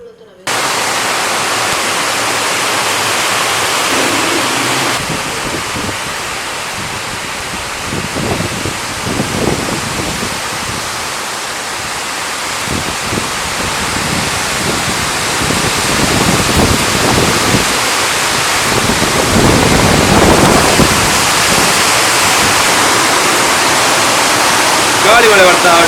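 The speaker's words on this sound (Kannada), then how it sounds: "ಗಾಳಿ ಮಳೆ ಬರ್ತಾ ಉಂಟು." Windy rain pouring steadily and loudly, a dense continuous hiss with gusty surges throughout.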